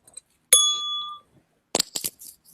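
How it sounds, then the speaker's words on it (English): A small bell is dropped and gives one bright, ringing ding that fades over about a second. Short clattering or voice-like bursts follow a moment later. "So I dropped my bell."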